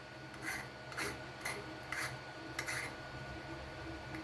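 Burrs filed off a brass barrel cylinder for a Nerf Hammershot: five evenly spaced rasping strokes, close and fairly quiet, with short pauses between, and no talking.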